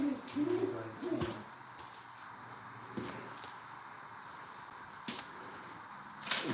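Pigeons being handled for selection give low, soft coos early on, then sharp clicks and bumps break a quiet background for the rest.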